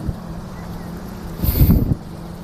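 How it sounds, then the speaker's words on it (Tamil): A boat moves on the sea off Dubai beach, its motor swelling into a louder rushing pass over steady wind noise, then fading. "போட் இங்கேருந்து வந்துட்டுருக்கு."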